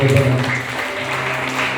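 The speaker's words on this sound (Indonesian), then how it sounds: "Kita beri tepuk tangan." Guests at a church wedding blessing clap after the vows, a soft spread of applause under a voice speaking at the start, continuing steadily at moderate level.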